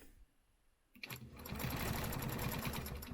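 A sewing machine starts up after a quiet pause and settles into steady, rapid stitching, close and clear, while quilting a stenciled design. It runs alone with no talking.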